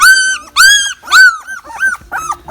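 Pitbull puppy held by the scruff, yelping and whimpering in a rapid series of about six shrill, close cries with short gaps between them.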